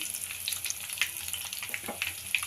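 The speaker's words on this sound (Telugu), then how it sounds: "ఒక ఐదారు రెబ్బలు ఎలుగడ్డ రెబ్బలు తీసుకున్నా దానికి అది మంచి ఎల్లిగడ్డ మంచి కలర్ దాకా మనం ఇలా ఫ్రై చేసుకోవాలి" Five or six garlic cloves fry in a pan with a soft, steady crackle and sizzle, and small pops and spits break through at intervals.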